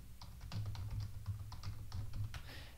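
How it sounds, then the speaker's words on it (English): Keys clatter in a quick, irregular run of light taps as a password is typed on a computer keyboard, close and fairly quiet. "And I'll type in the password"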